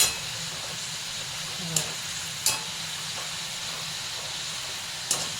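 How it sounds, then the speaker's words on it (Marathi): Malvani khaja sweets fry in hot oil with a continuous soft hiss and sizzle, broken by a few sharp clinks or scrapes as the pieces are turned, close-up and fairly quiet. "तळून घ्यायचे याला सफेद वगैरे ठेवायचे ना थोडे लालसरच करायचे"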